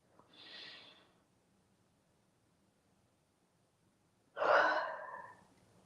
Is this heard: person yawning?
yes